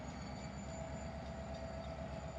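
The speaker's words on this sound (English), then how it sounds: "Now they're going to be unloading this train here." A freight train at a railway siding during unloading gives off a continuous low rumble with steady rhythmic clanking of rail cars. The sound is moderately loud and constant throughout, with no talking.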